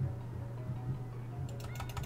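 Mouse clicks during a Lemmings game on a computer, a short run of rapid sharp taps near the end over a steady low hum.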